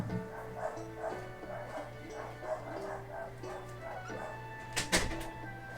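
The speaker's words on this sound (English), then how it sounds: "my dogs are being very loud" Dogs bark and yip close by in a home, with short, repeated barks over a steady electrical hum and a louder burst near the end.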